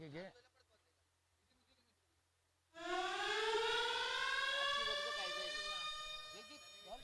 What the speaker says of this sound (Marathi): सायरन वाजलाय